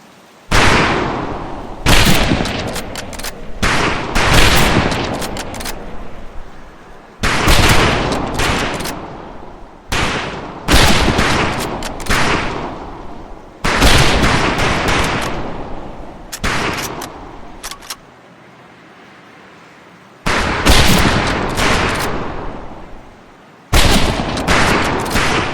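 Rifle volleys on a boot camp firing range in Medal of Honor: Pacific Assault, loud bursts of shots in repeated clusters separated by short quiet gaps, sharp and close.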